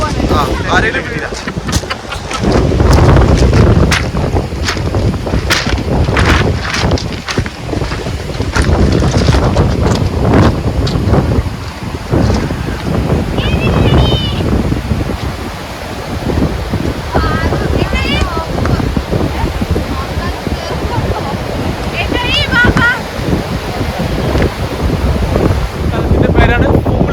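Atlantic Ocean waves and wind at a beach in Morocco, a constant rushing surf with heavy gusts buffeting the microphone, voices talking over it at times.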